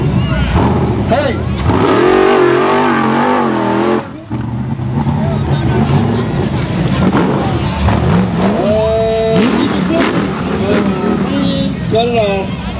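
A vehicle's engine revs hard while climbing a wet concrete hill, loud and continuous with rising throttle swells and tyre scrabble, under excited shouting from onlookers throughout.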